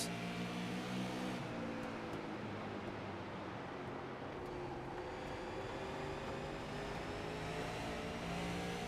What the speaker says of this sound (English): Oh, he's playing with that throttle a lot.